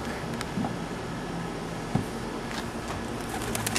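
A pigeon coos softly a few times against a steady background hiss, the low calls faint and spaced out, with a few light clicks and knocks nearby.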